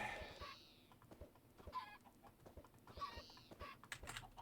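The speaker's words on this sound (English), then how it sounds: "Lots of chickens. That's the chickens." Chickens clucking in the video game Tekkit, several repeated clucks and short bursts sounding at moderate volume over a busy background of game noise, with no talk over them.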